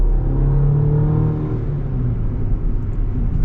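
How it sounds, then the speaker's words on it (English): A 2024 Chevy Colorado Trail Boss with a 4-cylinder engine accelerates, a loud, steady low rumble heard from inside the cabin with a rising drone that eases slightly midway, no talking over it. "I love this engine. For a 4-cylinder, it's impressive."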